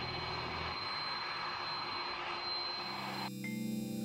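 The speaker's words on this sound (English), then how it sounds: "let's have a look over the Finnair A330 landing" A Finnair Airbus A330 jet comes in to land with a steady, distant roar of engine noise and a high whine, and the tone shifts near the end as the engine sound changes.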